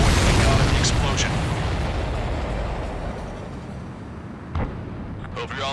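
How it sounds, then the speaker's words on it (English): An explosion in the video game Ace Combat 7 after a missile strike, a loud, broad rumbling blast that fills the start and slowly fades, with a brief thud near the end. "Everybody, keep a safe distance to avoid getting caught in the explosion."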